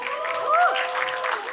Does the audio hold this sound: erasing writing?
no